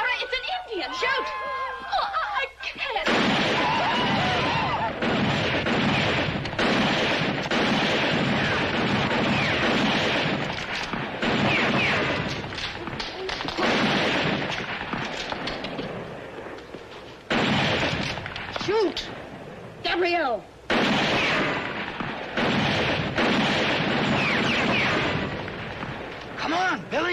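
Gunfire and booms from a western shootout against attackers, loud and dense with sharp repeated shots across nearly the whole stretch, mixed with shouting voices and a couple of brief lulls.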